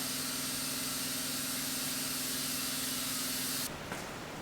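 A tire on a beadlock wheel is inflated to about 30 psi with a steady, loud rushing hiss of air that runs without a break and then cuts off near the end, with no voices.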